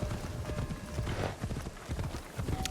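Horse hooves clip-clop in Assassin's Creed Shadows as a ridden horse moves at a steady pace. The hoofbeats land in a close, regular rhythm throughout, over a low ambient bed with a faint tonal cue near the end.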